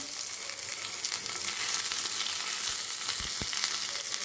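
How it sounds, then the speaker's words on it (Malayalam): Shallots, mustard seeds and curry leaves frying in hot coconut oil for a kumbalanga curry, giving a loud, continuous close sizzle with a brief stir or two near the end. "നന്നായിട്ടൊന്ന് വഴറ്റി കൊടുക്കാം ഉള്ളിയൊക്കെ ചെറിയ ഉള്ളിയൊക്കെ നന്നായിട്ട് വഴണ്ടി വന്നിട്ടുണ്ട്"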